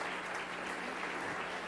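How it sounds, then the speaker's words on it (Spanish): Soft, distant applause from a church congregation praising Jesus Christ during a service, a steady even patter with no talk. "Dele fuerte el aplauso al Señor Jesucristo."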